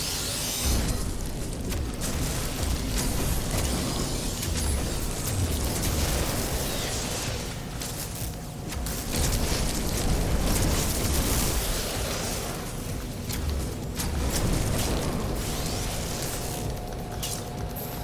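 Weapon fire from a plasma launcher in the No Man's Sky video game: a dense, continuous barrage of booming, bursting blasts at steady loud level, with brief dips between volleys and no talking.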